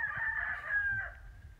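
A rooster crows once in a single drawn-out call, fairly close and clear outdoors, with light background noise and no talk.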